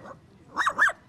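A dog gives two quick, close barks in a row after a brief faint yelp, short and sharp, with no talk over them.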